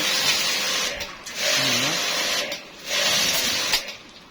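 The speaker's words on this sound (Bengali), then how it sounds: "এই মেশিনটা দিয়ে আবার বাউসি এবং ফোয়ারা দুটাই করা যায়" Pressure washing machine spraying water to clean a livestock farm, a loud continuous hissing spray that cuts out briefly twice, with a faint mechanical whine under it.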